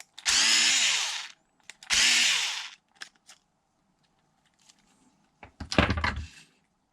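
A power drill runs in two sustained whirring bursts, spinning a screw out of an Arrma Mojave 6S BLX RC car, with light clicks and a rattling clatter afterward, close and loud, with no talking.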